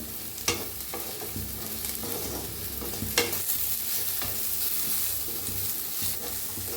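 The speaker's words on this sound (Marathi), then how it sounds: "मिक्स करून भाजून घेऊया छान अशी भेंडी" Okra stir-frying in hot oil in a kadhai gives a steady close sizzle, broken by a few sharp scrapes and clatters as the pieces are tossed and mixed, with no talking.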